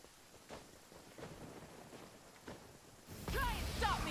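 Rain and thunder in a video game near a temple: a steady hiss of falling rain, then a louder rumbling surge of thunder in the second half.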